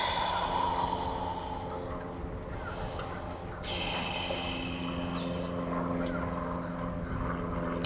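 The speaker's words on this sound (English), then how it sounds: "I'm noticing an airplane." An airplane passes overhead during an outdoor yoga session in Tampa, giving a steady, fairly distant low engine drone that holds throughout with no talking.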